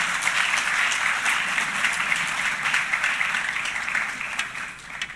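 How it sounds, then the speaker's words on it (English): Audience applause for event staff and volunteers at a plenary session of a conference, a full, sustained round of clapping that tapers slightly at the end. "I'd like for us to please just give those people a round of applause for all the hard work they've done."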